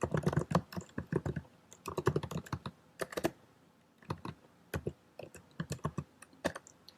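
Fingers tap on a computer keyboard in short clustered bursts of crisp clicks separated by brief pauses, quiet and close with no talking.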